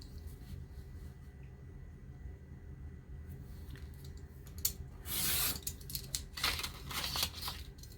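Scissors cutting through paper while trimming a sheet for a junk journal, a quiet scene that gives way to a few short snipping and rasping strokes in the last seconds, close up with no talking.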